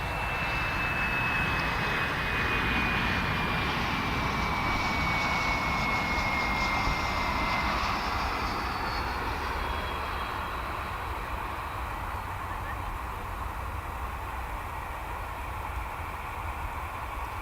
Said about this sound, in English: Here comes that flight from Lawton.